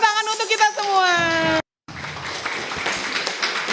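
Applause breaks out from an audience at a nurses' training event, a burst of dense clapping that cuts off briefly and then returns, following a short stretch of someone speaking.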